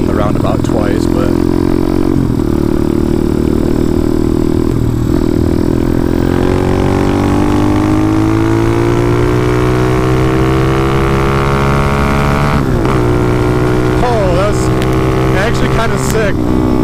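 A motorcycle ridden through a roundabout, its engine loud and close, revs climbing steadily through a gear then dropping at a shift before rising again, with road and wind roar throughout.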